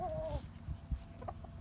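Backyard chickens making a brief soft cluck and a few low murmuring calls, close by and quiet, with faint rustling around them.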